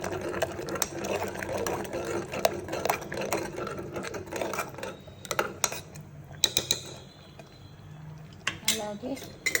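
A spoon stirs sago payasam in a pot, making quick, busy clinks and scrapes against the metal that thin out into sparser, sharper knocks.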